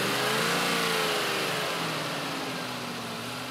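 A Lancia Thema V8 engine revs up near and loud, the steady mechanical roar rising slightly in pitch and then easing back, alone without any voices.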